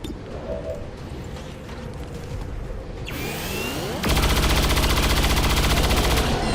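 Squad gunfire in XCOM 2, starting as scattered shots and battle noise, then a rising whoosh before a loud sustained burst of rapid automatic fire fills the final seconds, close and dense.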